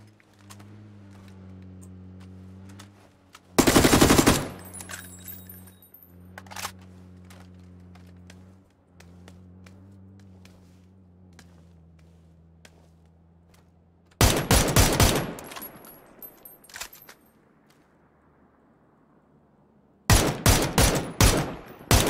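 An SKS rifle loaded with 5.56 rounds fires in PUBG on the Taego map, with three loud clusters of rapid shots separated by quieter stretches filled with a steady mechanical hum.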